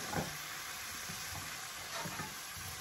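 Steady sizzling of cauliflower and potatoes frying in a pan for an Indian curry, with soft scraping clatters as they are stirred a few times.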